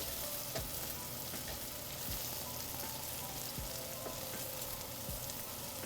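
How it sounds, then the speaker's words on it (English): Onions sizzle and pop in a frying pan, a steady quiet crackle with occasional sharper pops throughout and no voices. "I hear the sizzles, the popping."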